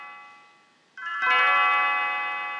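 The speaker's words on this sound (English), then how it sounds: "Oh, Leon's bell." Chime of Leene's bell in the Chrono Trigger video game, a layered ringing tone that enters partway in, swells, and then sustains and slowly decays over soft background music.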